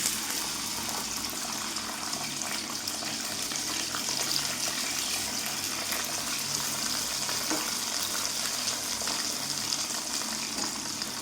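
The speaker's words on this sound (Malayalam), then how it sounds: "അത് ഞാൻ എണ്ണയിലേക്ക് ഇട്ട് കൊടുക്കാം." Garlic frying in hot oil for a fish pickle: a steady, loud bubbling sizzle that holds evenly for about eleven seconds, with no talking over it.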